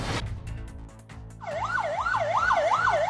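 Ambulance siren blaring on a road in Thanjavur district, Tamil Nadu, starting partway through as a rapid wailing sweep that grows louder and repeats steadily over low traffic rumble.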